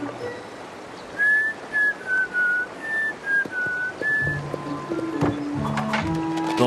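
A cartoon character whistles a short, wavering tune of about eight clear notes in a steady rhythm, followed by clattering and rustling effects.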